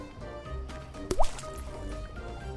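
Water poured into a coconut in the survival video game Green Hell: a short liquid splash with a quick rising gurgle over a low ambient bed, heard once.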